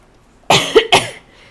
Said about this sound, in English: I hope that's not triggering for anyone during a pandemic, hearing someone cough